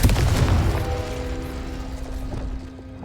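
A Confringo fire spell blasts in Hogwarts Legacy, opening with a heavy, loud boom that decays into a ringing, shimmering tail with a sustained magical tone.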